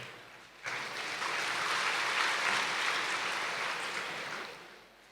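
Audience at a spiritual discourse breaking into applause, a dense, steady wash of many hands clapping that starts abruptly and runs several seconds before tapering off, fairly distant and moderate in level.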